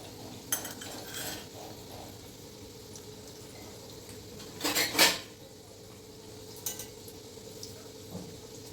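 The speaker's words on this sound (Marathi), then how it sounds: "नंतर मग मिडियम आपण एका डिशमध्ये काढून घेऊया" Fried golden potato paneer starter pieces are scraped from a pan onto a dish, giving a few utensil clinks and a louder metallic scrape midway over a quiet kitchen background.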